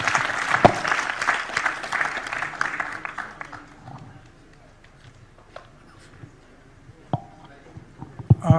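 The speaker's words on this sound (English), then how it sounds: "give a big clap to all the panelists who have been contributing to this process" Audience applause for panelists at a Sagarmatha Sambaad parallel session, dense clapping for about three seconds that thins into scattered claps and room noise.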